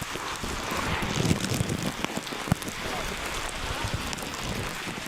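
Rain pours steadily outdoors during a havan ceremony, a dense continuous hiss with occasional sharper drop hits and faint voices beneath.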